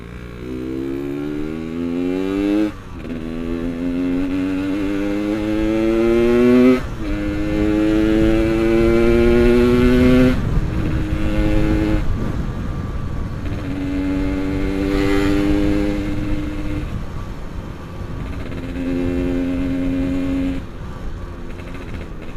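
A Yamaha RX-King two-stroke motorcycle revs repeatedly and loudly on a Jakarta street in daytime, its pitch climbing in several sharp rising pulls, each followed by a brief drop.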